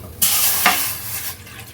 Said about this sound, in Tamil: இதில் இப்போ நம்ம தண்ணி விட போகிறோம்